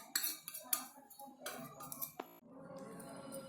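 Spoon clinking against a steel bowl while spices are stirred into thick gram flour batter for egg bhaji, a few sharp taps and scrapes up close, then a softer wet stirring texture.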